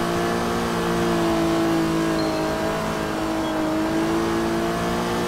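Engine of a supercar in the video game Sleeping Dogs, a steady droning rev with sustained tonal whine held at a constant loud level, with no talking.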